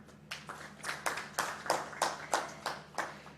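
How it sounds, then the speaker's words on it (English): Audience clapping for police and partners at a human rights event on COVID-19 recovery, a thin scattering of hands building into a steady run of separate claps, moderately close and fairly quiet. "give them a hand clap"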